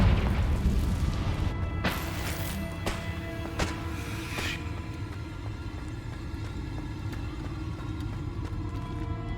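Confringo explosive spell in Hogwarts Legacy, several sharp booming blasts in quick succession followed by a low rumbling tail, with no talk over it.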